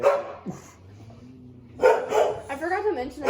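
Several dogs bark at a UPS truck, a burst of loud barks near the start and a louder run of barking and yelps later, with people talking in between.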